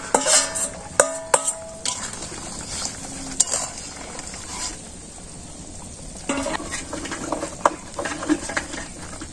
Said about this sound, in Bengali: মাছ আর বেগুন দিয়ে দিই, তার মাথা তো একটু জালুক